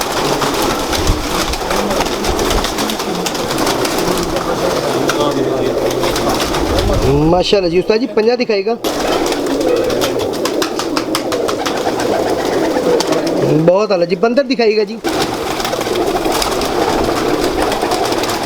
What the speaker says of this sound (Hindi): ये जी लाल आँखों वाले कबूतर हैं।